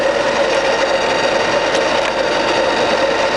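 The gearbox of a Colchester Master 2500 centre lathe runs with a steady, even mechanical whine and hum, continuous and fairly loud at close range, with no other events.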